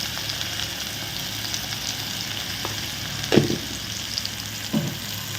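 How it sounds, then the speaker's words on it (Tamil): Spices tempering in hot oil for a chapati lunchbox dish give a steady, soft sizzle throughout, with a few brief louder crackles and spatters partway through. "இதில் லைட்டாக கொஞ்சமாக தாளித்து போட்டுக்கோங்க"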